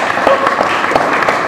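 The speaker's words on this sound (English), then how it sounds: "a round of applause for the panelists" A conference audience in Byron Bay claps briefly for the panelists after a talk on power plants and shamanism, a short burst of close, busy applause.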